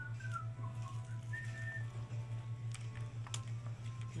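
An old man in patched, faded clothes whittles a stick while whistling a few faint, wavering notes over a steady low hum and light background clicks.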